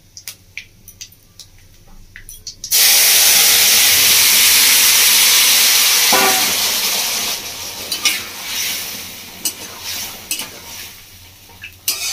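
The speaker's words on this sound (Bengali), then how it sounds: "এবার আমি তরকারিটা মধ্যে ফেলে দেবো" Vegetables tipped into hot oil tempered with five-spice for a Bengali drumstick panch mishali sabji, setting off a sudden loud sizzle that gradually fades, followed by scattered clinks and scraping of a spoon in the pan.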